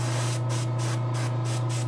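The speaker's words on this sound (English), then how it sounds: "I'd rather spray a little heavy right now." Spray paint hisses onto a Giganta figure in a steady run of short bursts with brief gaps, laid on a little heavy under the arms, with a constant low electrical hum beneath.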